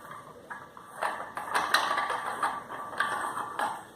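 Metal pipe fitting on a homemade loadable kettlebell being unscrewed at the top T, giving close, irregular clanks and scraping metallic clicks that build to a busier middle stretch, with no voices.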